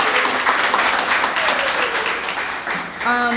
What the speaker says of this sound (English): I just want you all to give yourselves a round of applause because you came here today